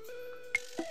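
Ringtone of a phone inside the Dream Daddy dating-sim game, a bright electronic chime with a steady tone that sounds alone, closing with a couple of short sharp blips.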